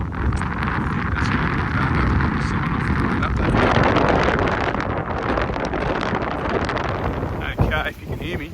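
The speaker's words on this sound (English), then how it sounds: "the wind's picked up a bit" Wind buffets the microphone on a coastal cliff walk from Dripstone Cliffs to Buffalo Creek, a loud, continuous roaring rumble that swells midway, ending with a couple of sharper gusts and knocks.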